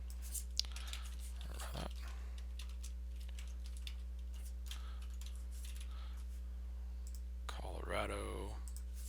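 Scattered light clicks of typing on a computer keyboard while a booking form is filled in, soft and close over a steady electrical hum, with brief muffled voice sounds in between.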